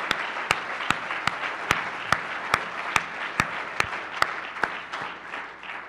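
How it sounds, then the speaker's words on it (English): Conference audience applauding its sponsors during closing remarks, a steady bed of crowd clapping with one loud nearby pair of hands striking sharply in a regular rhythm, about two claps per second. "if I could get a round of applause for all the people here who are actually sponsors"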